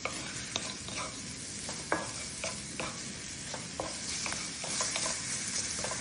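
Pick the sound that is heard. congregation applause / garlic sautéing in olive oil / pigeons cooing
garlic sautéing in olive oil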